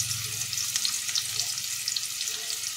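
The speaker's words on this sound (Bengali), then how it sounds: "যতক্ষণ না পেঁয়াজগুলো ভাজা ভাজা হচ্ছে" Chopped onions fry in a pan with a steady, close sizzle, broken by light scraping and stirring sounds. No one speaks.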